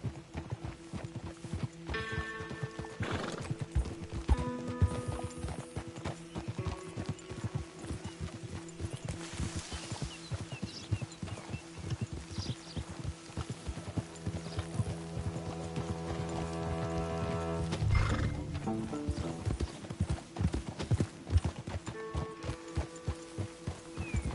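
Horse hooves clip-clop at a steady trot on a dirt road in the Western game Red Dead Redemption 2, with creaking tack and a brief whinny near the end. The sound is continuous and close, and no one speaks.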